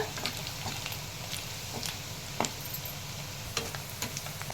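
Cumin and other ingredients fry lightly in a pan for Telugu-style chicken pickle, a soft continuous sizzle broken by scattered clicks and taps of stirring, close and fairly quiet.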